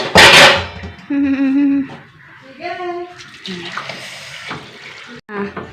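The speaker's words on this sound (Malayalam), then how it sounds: "വെള്ളമൊക്കെ ഒഴിച്ചു കേട്ടോ" A short gush of water splashes into a pot on the stove at the start, then voices talk loosely over faint pouring noises.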